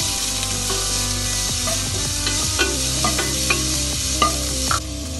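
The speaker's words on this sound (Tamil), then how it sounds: "இதையும் கொஞ்சமாக வதக்கிக்கலாம்." Raw mango pieces sauté with onion in a hot pan, giving a steady sizzle and frying hiss with intermittent scraping taps from a stirring spoon, close and continuous.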